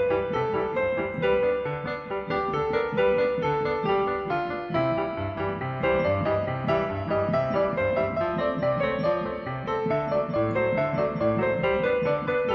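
Steady piano chords of a song played in a repeating rhythmic pattern, a moderate and continuous accompaniment without any voice.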